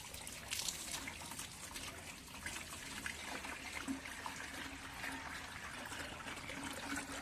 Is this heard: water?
yes